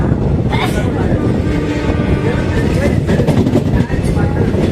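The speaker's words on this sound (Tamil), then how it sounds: "Chennai mail super fast express, அதாவது சென்னை எக்மோர்லேருந்து சேலம் வரக்கூடிய சேலம் எக்ஸ்பிரஸுங்க" The Chennai Egmore to Salem superfast express thunders along the rails, a loud, continuous rumble of wheels and carriages close by, with wind buffeting the microphone and a voice speaking over it.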